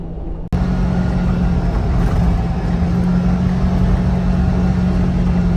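A Kawasaki Ridge side-by-side cruises down the road at speed with an Aftermarket Assassins clutch kit fitted, its engine giving a steady, loud drone with a constant hum after a brief cut at the start.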